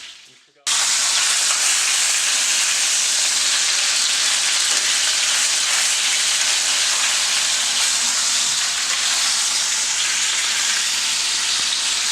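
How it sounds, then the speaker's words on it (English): Beef sizzling as it sears in a hot pan for tamales, a loud, steady hiss and crackle that starts abruptly and carries on unbroken. "You just kind of want to sear it, let it lock in all the flavor"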